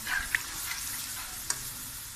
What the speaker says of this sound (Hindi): तो अब हम इसे 5 से 6 मिनट तक अच्छी तरह भूनेंगे